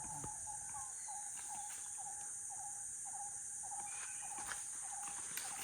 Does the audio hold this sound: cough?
no